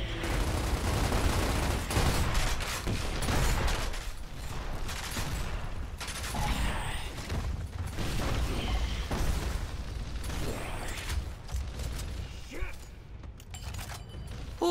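Gears of War Ultimate Edition gameplay on Xbox One fills with dense gunfire, pops and mechanical clatter, continuous and busy throughout, with excited voices occasionally breaking in.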